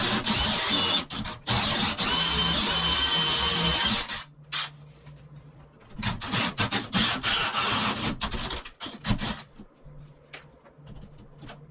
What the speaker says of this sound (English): I drilled from one side and then from the other side, so that way it didn't have a bunch of tear out.